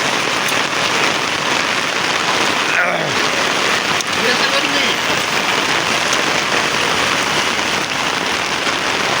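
Steady heavy rain falls on a city street outside a sweet shop. The hiss is dense and continuous, with faint voices under it.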